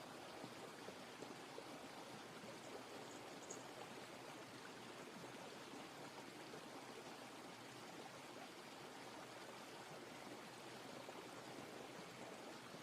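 A large mountain river rushes along the Madmaheswar trek in November, a constant broadband roar of fast-flowing water heard from a distance, steady and unbroken, with no one talking.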